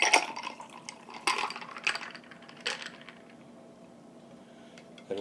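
Long Island iced tea is poured from a shaker into a glass, with a few sharp clinks and splashy bursts of ice and liquid early on, then fading to quiet.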